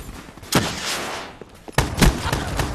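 Shotgun blasts in an Infection match, fired from a weapon nicknamed the broccoli gun: two loud, sharp bursts about a second apart, each followed by a rattling decay, with quieter game noise between.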